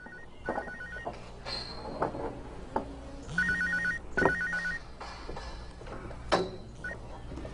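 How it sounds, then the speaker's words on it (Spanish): A mobile phone rings on a construction scaffold, its electronic ringtone repeating in short bursts over a background of clanks and bumps. "cuando sonó su teléfono portátil"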